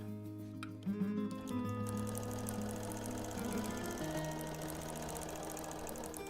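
A sewing machine stitches a seam in a custom quilt, humming steadily with a fast mechanical chatter that shifts in pitch a few times as it runs, with no talk.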